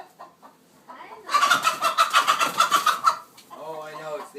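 A farm chicken clucks in a quick, steady run of calls, loud and close, with human voices talking briefly before and after.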